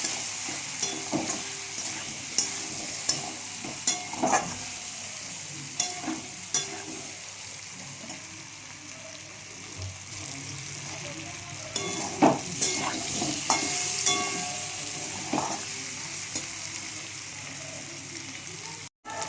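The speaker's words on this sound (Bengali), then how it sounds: "আর একটু হলুদ দিয়ে দিচ্ছি কারণ সেটাকে ভালোভাবে একটু ভেজে নেবো ভেজে" Potatoes fry in a pan with turmeric for an aloo dum with peas, a steady soft sizzle broken by repeated scraping stirs, with faint talk at times.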